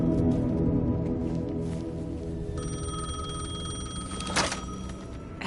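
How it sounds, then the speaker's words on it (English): A payphone in the Alan Wake 2 video game rings with a bright, repeating electronic bell. The ring starts partway through and continues steadily over low ambient game background noise. "The payphone was ringing."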